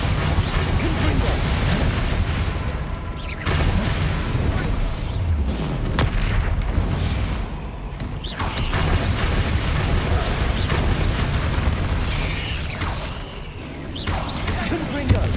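Confringo, an explosive fire spell in the video game Hogwarts Legacy, sets off repeated heavy booms and blasts within a dense, continuous mix of battle noise that stays loud throughout.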